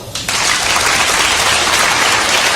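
A theater audience bursts into loud applause to vote on whether an image is a photo, the clapping swelling sharply in the first quarter second and then holding dense and steady.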